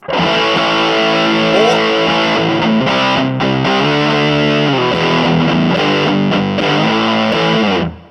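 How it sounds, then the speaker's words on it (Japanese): Electric guitar played through a Rat distortion pedal, heavily saturated chords ringing loud and continuous with a thick, buzzy sustain, changing a few times before fading at the end. "このラットっていうエフェクターはディストーションですかね。"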